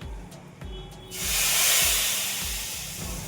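Hot spiced oil tempering hits a pot of Punjabi chickpea curry, bursting into a loud, close sizzling hiss after a second of quiet kitchen clatter, then fading slowly as it settles.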